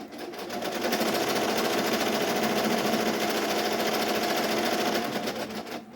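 An embroidery machine stitches an appliqué placement outline, a steady rapid mechanical whirr with fine needle chatter that runs loud and continuous for about five seconds before easing off.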